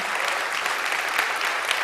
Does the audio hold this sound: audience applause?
yes